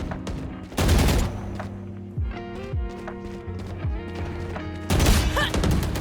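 Video game gunfire with bursts of loud broadband shots around the start and end, separated by quieter stretches of game sounds and tonal effects.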